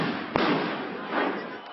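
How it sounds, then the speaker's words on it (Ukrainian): A sharp bang of explosive packets thrown at police cracks out over a noisy protest crowd, followed by rolling murmurs and a faint second pop. "зненацька з натовпу у бік правоохоронців полетіли вибухові пакети та димові шашки"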